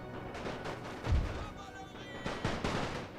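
Engineers firing rifles in a First World War strategy game with Austro-Hungarian forces, scattered distant shots and muffled battlefield gunfire, a few heavier thumps standing out over a low, busy din.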